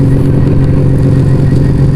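A Yamaha Vega ZR two-stroke motorcycle runs close and loud with a steady, throbbing engine drone under road rumble, no talking.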